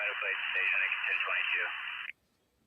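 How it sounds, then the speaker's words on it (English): Police scanner radio chatter from a Kern County, California hostage standoff at a Chase Bank, relayed through a phone: a thin, band-limited voice transmission that plays steadily for about two seconds and then cuts off abruptly. "My phone is bringing in the audio from the scanner"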